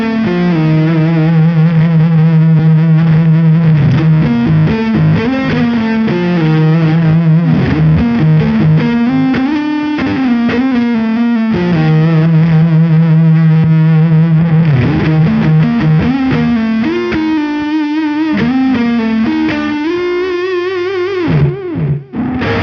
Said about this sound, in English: When he needs lots of sustain and gain, he uses the distortion side,